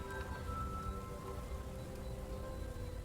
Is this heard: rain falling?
yes